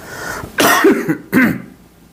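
Two harsh coughs, close and loud, the first longer and rougher, the second short, with quiet background between them.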